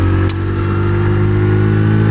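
Steady, loud engine drone from a Mash Roadstar 50 motorcycle while riding, a continuous low hum with no break.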